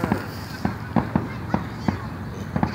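Fireworks bursting over a city on the Fourth of July, several sharp distant bangs spaced irregularly across the clip, with people talking nearby.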